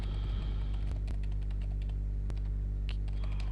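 A directory name being typed on a computer keyboard, scattered light clicks and key taps, irregular and close, over a steady low hum.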